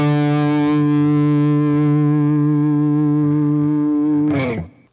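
A B.C. Rich Mockingbird Legacy ST electric guitar with moderate distortion holds one long, sustained note that rings steadily for several seconds, then a brief slide or pick scrape ends it abruptly.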